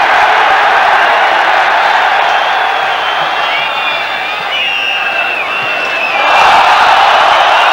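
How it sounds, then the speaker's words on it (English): Dense, roaring football crowd at a Lyon v Nottingham Forest UEFA Cup third-round second-leg match, a loud steady wash of noise with whistles and calls rising out of it, swelling again near the end. "Crowd calling for everything now"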